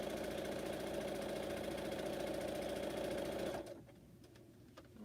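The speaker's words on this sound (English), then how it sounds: "This machine does not sew fast. This is not an industrial machine, so I really don't sew fast." A home sewing machine, not an industrial model, runs at steady moderate speed stitching fabric masks, a close rhythmic whir lasting about three and a half seconds before it stops, followed by quiet handling noises.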